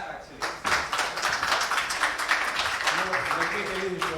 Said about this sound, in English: I think it deserves a big clap actually